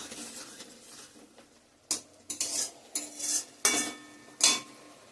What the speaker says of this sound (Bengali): বন্ধুরা আমার এদিকে টমেটোর চাটনিটাও হচ্ছে।